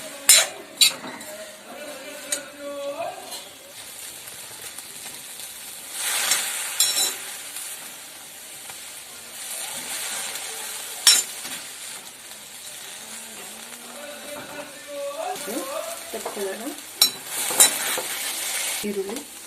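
Onions and other mint chutney ingredients fry in a hot pan, with soft sizzling under irregular scrapes and clinks of a spatula being stirred against the metal.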